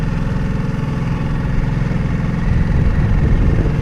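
The outboard engine of a Drascombe Coaster sailing boat runs steadily on passage, a continuous low, throbbing drone that rises slightly in loudness toward the end, with no voices.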